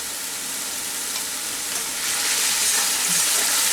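Mann kochu (giant taro) sautéed with salt and turmeric sizzles in a pan as a continuous, dense hiss close by, growing a little louder partway through, with no voices.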